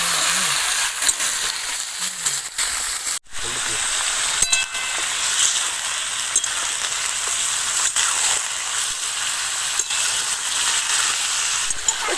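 Chicken pieces frying in oil in a pan, a constant broad hiss and sizzle that runs close and steady with a few brief knocks partway through.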